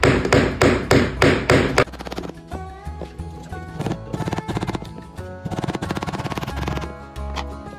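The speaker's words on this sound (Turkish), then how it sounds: "Çekiç yardımıyla da yerleştireceğim." A hammer taps plastic fittings into an IKEA BRIMNES three-door wardrobe, giving about six sharp, evenly spaced knocks up close before the sound turns to softer scattered handling and thuds.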